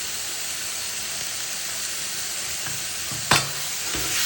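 Potatoes fry in a pan for dum aloo as spices such as turmeric, coriander-cumin and red chilli powder go in, giving a steady loud sizzle with scraping stirs near the end.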